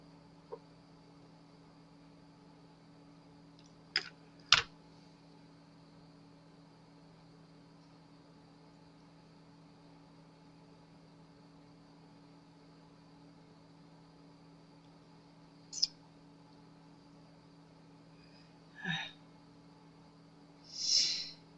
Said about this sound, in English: I have to cut some little bitty pieces for sure.